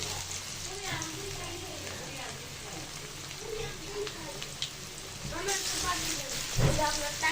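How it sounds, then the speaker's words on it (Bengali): Cauliflower pakoras frying in hot oil in a pan give a continuous close sizzle and crackle, with occasional louder spatters and a bump toward the end, while a voice speaks over it. "জাস্ট ধরে ধরে এভাবে ছেড়ে দিব তেলে।"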